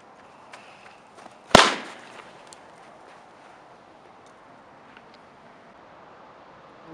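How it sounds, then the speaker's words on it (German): A cubic cannon-cracker firecracker set off under a tin can explodes in a single sharp, loud bang that rings out briefly, then fades into quiet outdoor ambience with a few faint clicks. "einen kubischen Kanonenschlag und den King Cobra Böller. Und zwar nicht normal gezündet, sondern unter einer Blechdose"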